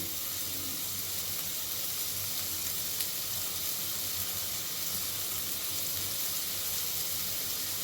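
A prawn and ridge gourd malai dish frying in a pan gives a steady, fairly quiet hiss and sizzle with faint stirring, unbroken by voices.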